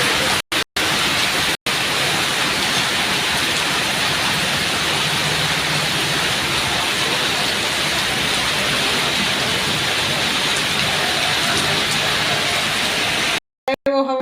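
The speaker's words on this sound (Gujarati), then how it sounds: "આકાશ તૂટી ગયું હોય ને એવો વરસાદ આવે." Heavy rain pours down in a steady, dense hiss of drops on surfaces, loud and unbroken for most of the stretch, with brief cut-outs near the start and end.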